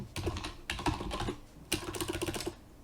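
Keys clatter on a computer keyboard in three quick bursts of close, crisp typing separated by short pauses.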